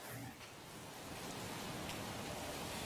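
Rain falls steadily with gusting wind during an outdoor live report ahead of a storm, a dense, even hiss close to the microphone with no talking.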